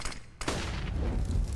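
Dense gunfire from a competitive Counter-Strike: Global Offensive match, a continuous loud burst of rapid shots and booming impacts with a brief gap, heard alone without talking.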